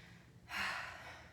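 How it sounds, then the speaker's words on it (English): A person breathing heavily after an exercise workout: quiet at first, then one close, audible exhale that fades gradually, with no speech. "I'm heavy breathing after that one"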